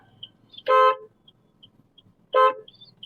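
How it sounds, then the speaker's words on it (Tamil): Two short, loud car horn honks sound close by, spaced well apart, with quiet in between. "ஒரு தடவை ஹார்ன் அடிச்சிருங்க."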